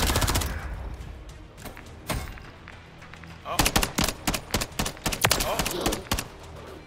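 A loud volley of rapid gunshots in Call of Duty Modern Warfare 3 ranked play, a few isolated shots first and then a dense run of quick reports, with someone briefly exclaiming.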